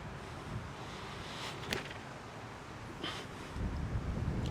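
Wind blowing across an outdoor disc golf course at a Texas park, a steady broadband rush that swells louder toward the end, with brief buffeting gusts against the microphone.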